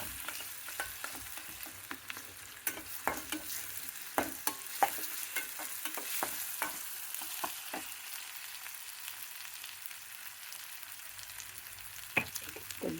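Ginger garlic paste frying in a pan for a spinach dal lunch, a steady soft sizzle with occasional light stirring scrapes and clicks, close and continuous, no voices.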